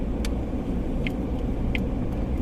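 A car rolls through deep fresh snow in a park in Konya, a steady low rumble of engine and tires with a few faint crunches and clicks over the top.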